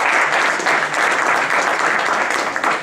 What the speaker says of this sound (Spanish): yo creo que les podemos aplaudir antes